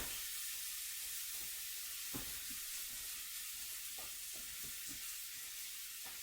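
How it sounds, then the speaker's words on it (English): Meat-stuffed pita frying meat side down in an olive-oiled pan, a steady, faint hissing sizzle with a few soft crackles, heard alone. "place your pita meat side down in the pan"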